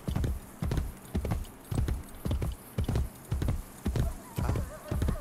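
Horse hooves clip-clop at a steady trotting rhythm in Assassin's Creed Brotherhood, with about a dozen clear hoofbeats, loud and close, plus a brief whinny near the end.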